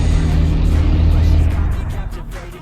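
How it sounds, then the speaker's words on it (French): A car engine in the mobile driving game RealCar Parking 2 hums in a low, steady drone that fades out toward the end, with no talking. "les bruits de voiture sont très bien faits"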